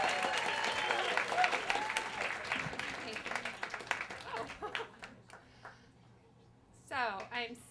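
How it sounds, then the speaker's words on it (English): Applause from the audience at a Moth story slam, a dense crowd clapping with cheers that fades after about five seconds, followed by someone speaking near the end. "Round of applause for Joan."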